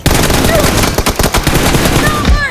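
Loud, close bursts of automatic gunfire in PUBG Mobile, a fast rattling string of shots with short gaps, with a few faint game beeps near the end.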